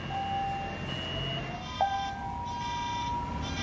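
A fire alarm sounds in a deserted hotel lobby after a disaster, giving steady electronic beeping tones with one sharper blip partway through, over a low background hum.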